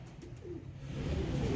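A pigeon coos softly and low, a brief rolling murmur in a loft setting, with no speech.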